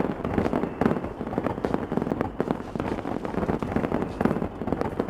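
Fireworks bursting over Tilted Towers and Retail Row in the Fortnite video game, a dense, continuous crackle of pops and booms at steady loudness with no talking.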